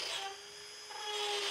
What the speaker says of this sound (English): To start things off, we're going to drill some holes into our shells.